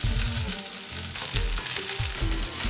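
Ginger slices and green onions sizzle in hot oil, a loud steady crackle with soft stirring scrapes repeating throughout.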